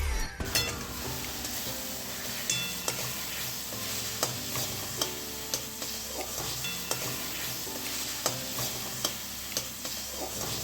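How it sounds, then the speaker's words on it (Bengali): Turmeric, coriander, cumin and dry chili powders fry in oil in a pan, with a continuous sizzle and a spatula clinking and scraping against the metal at a regular stirring rhythm. "এরপর ভালো করে জলটা টেনে না আসা পর্যন্ত ভাজতে হবে।"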